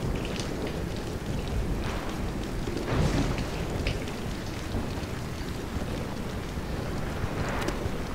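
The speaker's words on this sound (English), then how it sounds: "Raindrops are pretty cool." Rain pours steadily in the Aliens: Colonial Marines video game, a dense, continuous hiss with scattered drop taps and a brief swell around the third second, with no talking over it.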